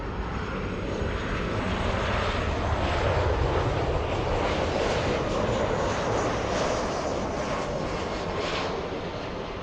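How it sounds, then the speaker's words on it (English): An Airbus A350-900 jet airliner climbs out from Los Angeles, a loud, steady, broadband engine roar that holds evenly throughout with no speech. "That is an A350 900 flying back to Paris."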